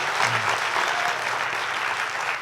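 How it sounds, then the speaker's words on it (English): Audience applauding a speaker at a science conference plenary session, a steady wash of clapping from a large hall, fairly loud and even for a couple of seconds with a faint voice underneath. "Let's give Dina a round of applause."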